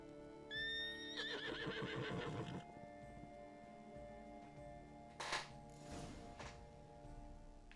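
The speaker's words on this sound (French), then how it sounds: "C'est un cheval avec une corne." A horned horse in The Witcher video game gives a loud, wavering whinny, followed by hoof clip-clops and a short rustle over a steady background drone.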